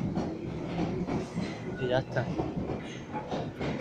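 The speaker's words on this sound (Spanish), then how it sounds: "pasan algunos trenes por la misma estación" A train rolls through a metro station, a rumbling, rattling clatter of wheels and carriages heard up close, with someone talking briefly over the steady noise.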